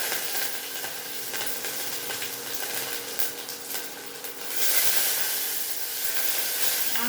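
Mustard seeds, cumin, two Byadgi chillies and curry leaves sizzling in hot oil, a steady crackling hiss that swells louder and brighter as more goes into the pan, with light stirring scrapes.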